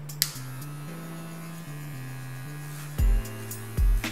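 A cordless Sterling 4 hair clipper fitted with a number 4 guard hums steadily with a wavering electric buzz, and two brief louder bursts near the end come from contact with hair or handling.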